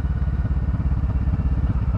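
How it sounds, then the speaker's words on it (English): A Kawasaki Vulcan S motorcycle engine drones steadily at low revs while engine braking downhill, a rhythmic pulsing burble with no acceleration. "And this is all engine braking at the moment."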